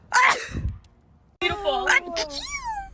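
A person gives a sharp, close sneeze at the start, followed by a short pause and then a tonal, sing-song voice.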